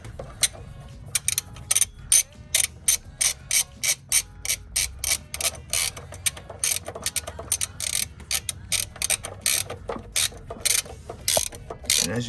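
Ratchet clicking steadily while tightening the upper ball joint on an Acura RL front suspension, close and distinct, in repeated bursts of rapid clicks with short gaps between strokes.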